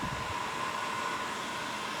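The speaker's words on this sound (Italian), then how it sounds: "Quindi phon termico o phon caldo, si parte, si scalda bene" Electric heat gun blowing hot air, set around 250 degrees, on old painted furniture to soften the paint for stripping: a continuous, even whooshing roar with a faint steady whine, close and unbroken throughout.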